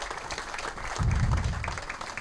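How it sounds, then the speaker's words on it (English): Audience applause at a cattle sale, fairly quiet, steady clapping from a crowd lasting a couple of seconds, with a low rumble joining partway through. "there's a big round of applause."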